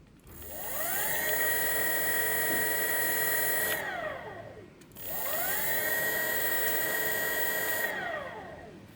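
A 48V 500W mid drive motor with gearbox runs in reverse, twice spinning up to a steady high whine, holding, then winding down, heard close with no talk.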